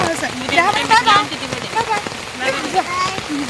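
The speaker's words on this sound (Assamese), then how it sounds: "ইমানেই ডাঙৰকৈ বৰষুণ দিলে" Heavy rain falls in front of a school, drumming steadily on an umbrella or raincoat, while someone talks over the downpour.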